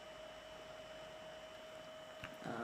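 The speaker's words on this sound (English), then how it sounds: "And then I'm going to use my Jamberry mini heater" A Jamberry mini heater warms nail wraps with a steady electric hum and thin whine, close and constant, ending in a brief rustle.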